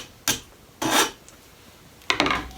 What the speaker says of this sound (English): take a file, get rid of any burrs that you might have left behind